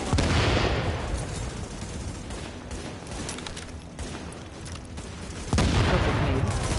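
A grenade explodes amid a firefight in The Division video game: continuous loud gunfire throughout, then a sharp, heavy blast near the end that lifts the whole mix.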